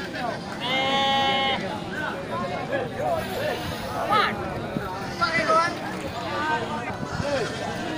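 Sheep bleat in harmonic calls at a busy goat and sheep market, one loud near bleat early then scattered fainter calls, under steady crowd chatter and people talking.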